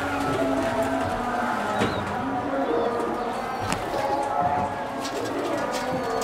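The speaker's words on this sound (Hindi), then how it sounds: "सलारा टैडी कबूतर है जी।" Salara Teddy pigeons coo on a rooftop, low soft cooing phrases repeating steadily over continuous outdoor background noise, with faint chirps and a distant car.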